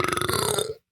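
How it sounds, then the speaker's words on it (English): A single long, loud burp lasting under a second, rolling and croaky, performed as part of a comedic character on a podcast, close to the mic with nothing else heard. "the burp was part of the character I was doing"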